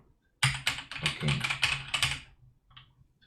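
Keys clatter in a quick burst of about eight close, crisp strokes on a Philips VG8020 computer keyboard, followed by a faint single tap after a short pause.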